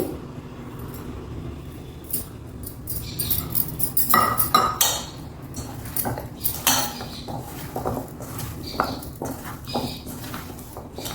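A spoon stirs chickpea pakoda batter in a metal bowl, giving a steady run of close clinks and scrapes with irregular louder knocks and no talking.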